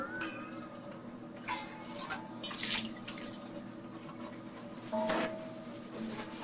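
Tap water running into a cooking pot as it is rinsed out, with a steady faint splash, a couple of louder sloshing surges and clinks, close by and without talk.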